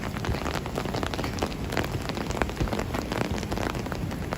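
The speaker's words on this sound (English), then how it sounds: "So now it is raining again in the city." Steady rain pours down on a Manhattan night during a storm, a dense, even hiss of drops spattering on surfaces with no pauses.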